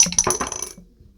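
Dice of Destiny dice are rolled, giving a few bright clattering hits and a short rattle that settles and fades within about a second, heard alone.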